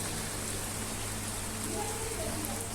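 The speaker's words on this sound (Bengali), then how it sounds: "দেখেন বাহিরে প্রচুর পরিমাণে বৃষ্টি হইতেছে" Heavy rain falling outside a flooded poultry farm, a steady dense hiss of drops that fills the whole clip without a break.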